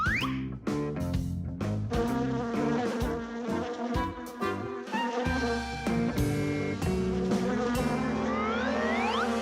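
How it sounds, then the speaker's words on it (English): A cartoon bee buzzes in a steady, close, high whine that rises and swoops as it flies, heard over busy music with no talking. "Here, little bee. Fly this way."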